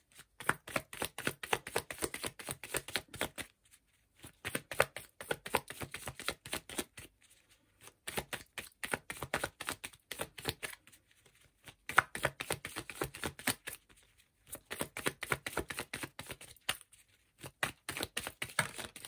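Tarot cards being shuffled by hand, close and crisp, in repeated bursts of rapid riffling flutter separated by short pauses, with no talking.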